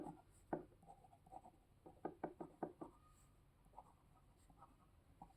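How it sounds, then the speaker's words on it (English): Writing out an answer by hand: a series of faint, quick taps and scratches of pen on paper, clustered in short bursts and then trailing off, quiet and close. "Now let's write the answer."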